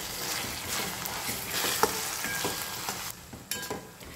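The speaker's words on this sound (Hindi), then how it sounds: "हमने सूखी मिर्ची ली है तो वो बहुत जल्दी फ्राई हो जाएगी।" Masala of dried chilies, turmeric and coriander powder fries in a pan over a low flame, with a soft, continuous sizzle broken by a few light stirring scrapes and no talking.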